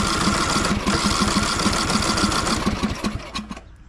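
A small engine spins over rapidly with its spark plug disconnected, a dense, fast mechanical chatter heard close and loud for several seconds before it slows and tapers off.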